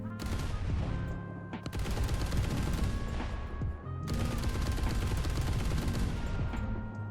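Rapid, continuous autocannon fire from a Gepard anti-aircraft gun in the War Thunder video game, loud and dense bursts with a brief pause midway, layered over a steady engine drone.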